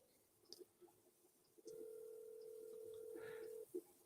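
A telephone dial tone holds steady for about two seconds while a call is being placed, preceded and followed by faint clicks and room noise, with no one speaking.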